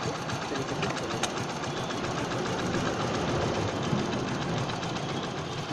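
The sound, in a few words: Hero HF Deluxe motorcycle engine idling during mileage adjustment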